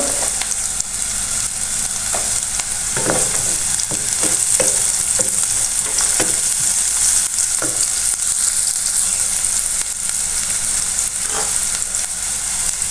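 Minced garlic fries in a pan for chicken and cheese pasta, a loud continuous crackling sizzle with occasional scraping stirs, close and unbroken throughout.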